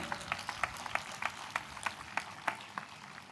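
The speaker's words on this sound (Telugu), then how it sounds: "చప్పట్లు కొడుతూ స్తోత్రాలు చెప్దాం." A church congregation clapping in praise at a convention gathering, rhythmic, evenly spaced group claps about three per second, moderately distant and steady.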